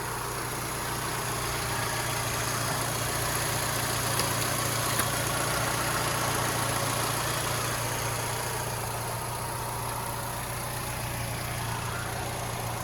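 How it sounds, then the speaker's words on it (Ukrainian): A Volkswagen Golf Plus engine idles with a steady, even low hum and a constant mechanical whine. It runs alone without any talk at a uniform level throughout. "Робота двигуна."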